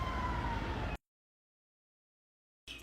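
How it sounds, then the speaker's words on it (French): A siren wails under steady street traffic near Virginia Union University for about a second, then cuts to silence before faint noise returns at the end. "Vous n'entendez pas les bruits de la sirène là."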